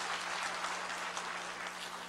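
Applause from a church gathering with children taking part, a steady, dense wash of clapping that fills the whole clip at moderate level with no talk over it.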